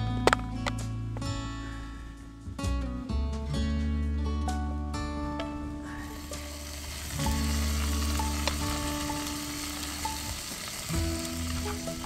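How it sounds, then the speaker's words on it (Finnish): Fish and other food sizzling in butter in a pan on a fishing trek in Lapland, a steady, close crackling fry with occasional stirring and clinks as ingredients are added. "Sitten kun on raudat paistettu, niin heitetään ranut pannulle. Ja vähän lisää voita."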